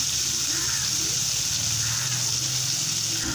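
Tomatoes and tamarind sauté in a pan for Onam coottu curry, giving a soft, steady sizzle with faint bubbling and a low background hum throughout.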